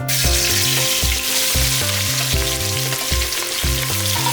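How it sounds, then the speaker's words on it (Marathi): Onions frying in oil for a one-kilogram veg biryani make a steady, close sizzle that runs under loud rhythmic background music throughout. "तर आता इथे त्याला थोडंसं तेल टाकूया तर आता आपण कांदा टाकायचा आहे"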